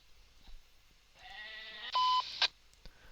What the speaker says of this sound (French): les bruits de chèvres, ça serait bien que ça s'arrête